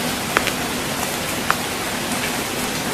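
Heavy rain pours steadily, a dense unbroken hiss with a few faint drop ticks scattered through it, and no voices.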